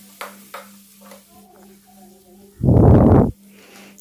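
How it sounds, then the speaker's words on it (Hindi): Cumin powder, salt and garam masala for an egg curry hit a hot pan with one loud, sudden hiss lasting under a second. Quiet tapping and a low hum come before it. "ये सारी चीज़ें डाल के हमें इसकी भुनाई कर लेनी है।"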